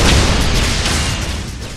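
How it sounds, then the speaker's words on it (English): A loud explosion rumbles in the Ratchet and Clank: All 4 One video game, a dense, sustained burst of noise that slowly fades over under two seconds. "That's an explosion, alright."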